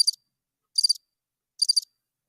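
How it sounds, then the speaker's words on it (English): Crickets chirp in three short, evenly spaced trilled bursts, crisp and isolated against complete silence, like a sound effect. "Crickets."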